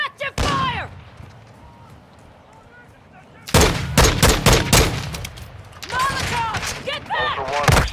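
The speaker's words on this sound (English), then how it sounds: "Taking effective fire!" Gunfire in Call of Duty DMZ: a short burst of shots, a lull, then heavy rapid volleys of loud close gunshots with layered game sounds, under in-game radio voice chatter.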